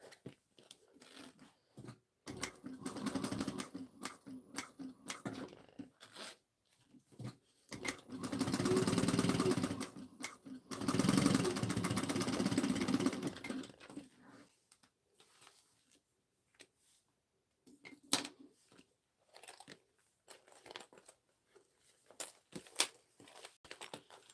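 Sewing machine top stitching a fabric pouch, running in two steady bursts of a few seconds each amid quieter clicks, taps and fabric handling nearby.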